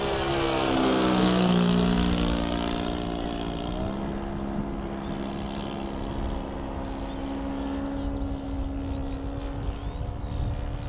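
An H-King PC6 Porter balsa RC plane on its maiden flight, its engine droning steadily with a pitch that sweeps down as it passes, loud at first and then holding a constant hum at a distance.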